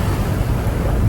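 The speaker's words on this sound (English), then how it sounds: "Waves are really annoying today" Open-ocean waves slap steadily against the beam of a sailboat on the passage from Hawaii to Alaska, a loud, low, rushing wash with heavy wind buffeting the microphone.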